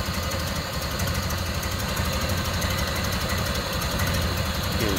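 A 1929 Ford Model A rumble seat coupe with a downdraft carburetor idling close by, a steady, even, low mechanical rumble with a fine rapid ticking pulse and no voices.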